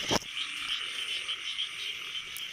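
A frog caught in a rice field after rain croaks in a steady, continuous rasping drone, loud and close, opening with a sharp click and with no talking over it.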